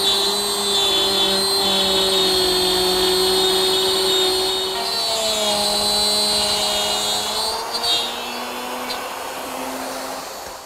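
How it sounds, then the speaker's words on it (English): An electric router cuts wood along a straight edge, its loud high whine holding steady and dipping slightly in pitch as it moves through the material. "Now I guide the router and start removing the material."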